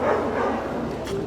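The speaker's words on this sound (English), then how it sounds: "barking dogs" Dogs barking at a lightning-damaged site in Germany, short yappy barks mixed with whimpering, fairly close and loud over a background hum.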